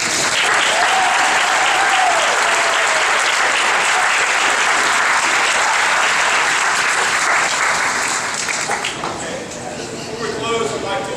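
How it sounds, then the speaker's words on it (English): A graduation audience for a naval training class gives dense, loud, sustained applause that fills the room for most of the stretch, then thins out toward the end as a voice begins speaking. "so a round of applause for being last"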